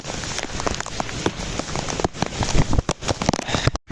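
Heavy rain pours down at a market yard in Gondal in a dense, steady patter with crackling drops striking a surface close by, continuing without pause.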